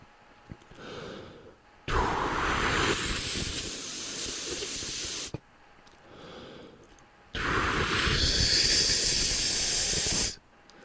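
Two long bursts of rushing, breathy air, each lasting a few seconds, with brief quiet gaps between; loud and close, the second burst slightly brighter.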